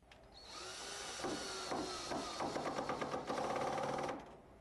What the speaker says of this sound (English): Be sure to drill pilot holes in the countertop before securing it.